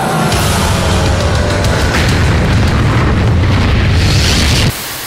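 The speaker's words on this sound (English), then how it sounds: "I'll make this thing blow up from inside" A monster in the horror video game Michigan: Report from Hell explodes in a loud, rumbling roar that holds for several seconds, then cuts off sharply into a quieter background.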